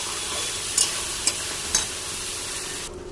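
Vegetables and broken cashew nuts fry in a pan with a constant close sizzle, punctuated by three sharp scraping clicks of a spatula stirring, before the sound drops off at the end; no talking.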